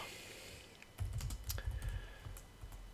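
Keys are tapped on a computer keyboard in a quick burst of soft, close clicks following a brief quiet moment, with no talking.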